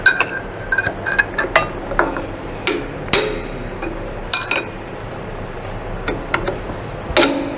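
A hammer strikes a spanner to tighten the nut holding the wheel of a cylindrical grinding machine, making sharp metallic clinks and knocks spaced irregularly at close range, several in quick clusters, with no voices.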